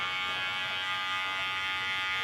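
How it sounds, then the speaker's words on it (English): Cordless hair clipper fitted with a half guard, cutting hair during a taper fade, giving a steady close electric buzz that holds level without pause. "Now I'm gonna work my way over with my cordless clipper."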